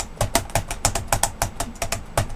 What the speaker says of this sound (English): So when you're typing something, it sounds like you're doing this.